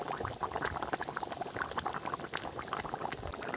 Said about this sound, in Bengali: এইভাবে ফুটবে এখন 5 মিনিট।